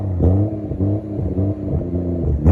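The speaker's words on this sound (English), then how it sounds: "I'll add a clip in of this exhaust as well right now." Titanium exhaust on a car revving up and down in several close, loud bursts, a deep droning rumble that rises and falls with each blip of the throttle.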